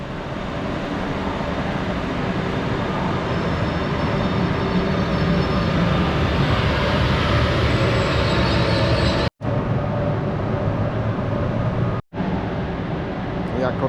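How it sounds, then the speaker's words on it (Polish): A passenger train from Kołobrzeg and Gorzów Wielkopolski pulls into a station platform, giving a steady, loud rolling rumble and clatter that fills the scene and breaks off abruptly twice near the end. "Punktualnie wjeżdża pociąg zamojski z Kołobrzegu oraz Gorzowa Wielkopolskiego"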